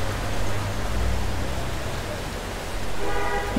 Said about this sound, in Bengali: বেশ আরাম লাগছে এই বৃষ্টিটা।